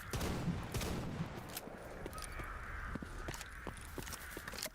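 Gunfire in the shooter game S.T.A.L.K.E.R. GAMMA, a series of sharp shots over a dense, noisy in-game background, some in quick bursts and others spaced apart, without talk.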